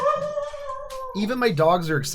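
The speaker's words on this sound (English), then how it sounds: "See, even my dogs are excited." Pet dogs howl in a long, steady, wavering tone close by for about a second, then a person starts talking over the fading howl.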